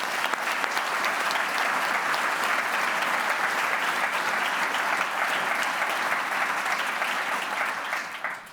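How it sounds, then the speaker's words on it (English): An award ceremony audience gives sustained, loud applause for Rezwana, a steady wash of clapping hands that holds evenly for several seconds before tapering off at the end. "A big round of applause for Rezwana."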